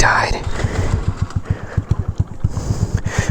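A Honda Navi motorcycle engine with a flooded carburetor sputters and breaks up, its low pulses coming in uneven, stumbling bursts close by, with wind noise overhead.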